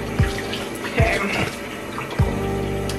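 Tap water runs into a sink for washing the face, a steady close splashing flow broken by a few brief sloshes and drops.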